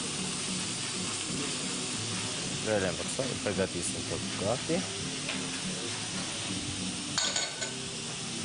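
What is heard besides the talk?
onion and apple frying in a pan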